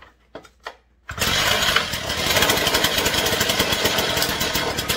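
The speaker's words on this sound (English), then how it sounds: "Let's see if she'll fire off." A Stihl TS 350 cut-off saw with a stopped-up muffler and stuck choke is quiet apart from a couple of faint knocks, then fires up abruptly and runs loud and rough at close range for the rest of the clip.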